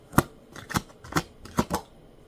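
Tarot cards are shuffled by hand in a series of about six sharp, close riffles and snaps spaced unevenly, with no talking.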